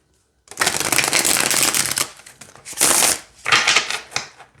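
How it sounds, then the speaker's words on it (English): A thick 90-card oracle deck of essential-oil themed cards being shuffled up close, with loud papery riffling bursts in three passes separated by brief pauses, no talking. "but let's just see how they shuffle."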